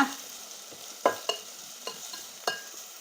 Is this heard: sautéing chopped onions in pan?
yes